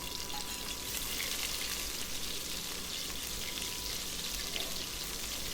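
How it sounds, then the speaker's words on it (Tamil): Onions and chillies sautéing in a pan with curry leaves, part of making Kongu-style country chicken curry: a steady, dense sizzle that carries on unbroken at low-moderate level with no talking. "அப்புறம் வெங்காயம் மிளகா எடுத்து வச்சுருந்தோம்ல அதை போட்டு நல்லா வதக்குங்க"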